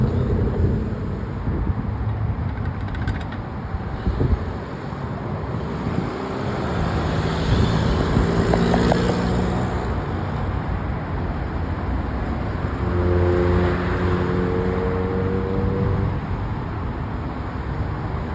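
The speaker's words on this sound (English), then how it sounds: "This location have a lot of traffic." Road traffic at the intersection of Torrance Blvd and Figueroa St in Carson: a steady roar of passing vehicles and engine hum, with gusty wind buffeting the microphone throughout.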